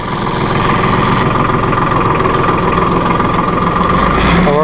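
A 2005 New Holland TC30 compact tractor engine runs steadily in first gear, low range, moving slowly, with a loud, continuous mid-pitched drone and knock that holds evenly throughout without talk.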